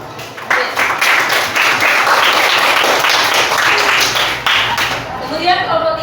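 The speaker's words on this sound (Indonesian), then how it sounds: "Beri tepuk tangan untuk Ubed." Applause from a classroom audience during a teacher-training lesson on faith in the prophets, dense clapping filling most of the stretch before it thins out and a voice begins speaking near the end.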